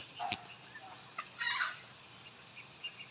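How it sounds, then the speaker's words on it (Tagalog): Turkeys gobble faintly at a distance at an outdoor jogging area in a forest-resort setting, a couple of brief calls over quiet ambient background. "Yan, maraming pabo dyan."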